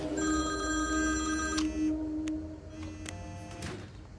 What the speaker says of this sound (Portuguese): Kyla, atende o telefone